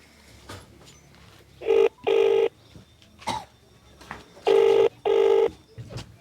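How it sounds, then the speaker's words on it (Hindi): A telephone ringback tone sounds in two paired bursts, repeating with a short pause between, over faint background noise and scattered clicks. "फोन लगा रहा हूँ"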